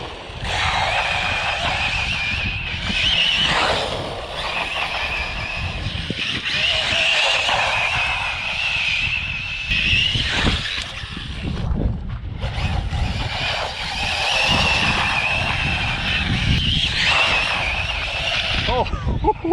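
An ARRMA 6s Motaliphon RC truggy with a QuicRun 2000kv motor, whining loudly at high pitch in long rising and falling throttle bursts under wind buffeting, with a voice talking at times.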